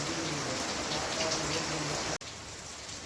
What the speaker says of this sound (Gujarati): 1 વાગ્યાનો વરસાદ ચાલુ થયો તો એવું નામ ચાલુ છે, બંધ જ નથી